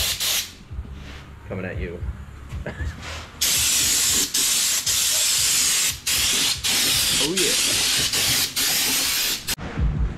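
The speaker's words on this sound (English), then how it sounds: "the final spray is done" Loud hissing spray of oil undercoating in long continuous bursts with brief gaps, close by, while a voice speaks briefly between and under the spraying.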